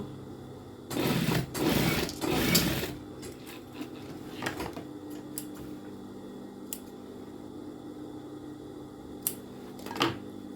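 A sewing machine stitching a seam runs in a loud close burst of rapid mechanical stitching, then falls quiet with a faint background hum and a few brief clicks.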